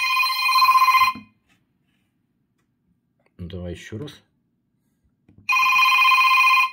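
A G'zone Type-XX phone plays a bright electronic ringtone from its rear speaker in two loud bursts, separated by a silent gap in which someone speaks briefly.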